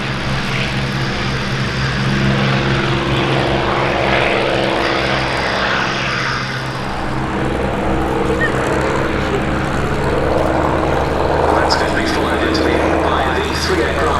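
A P-51 Mustang warbird rolls across the airfield at Duxford during a Battle of Britain air display, its propeller engine a loud, steady drone that swells and stays close throughout, with a commentator speaking over it.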